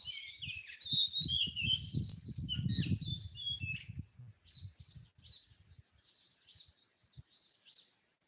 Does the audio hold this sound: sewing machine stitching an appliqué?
no